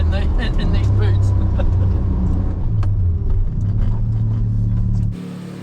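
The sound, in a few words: Suzuki Cappuccino driving, rear wheel bearing noise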